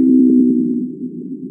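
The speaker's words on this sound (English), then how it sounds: "So blue whales in the Pacific typically sound like this." Blue whale song from the Pacific, sped up into a steady, low droning moan that holds for the whole stretch, fading slightly toward the end, with no other sounds.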